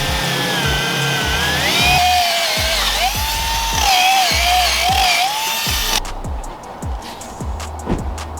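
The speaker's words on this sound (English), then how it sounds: "we're gonna do an eraser wheel." Eraser wheel on a power tool removing tape residue from a Mazdaspeed 3, a loud close whining spin with rhythmic pulsing as it works the car's surface, then winding down.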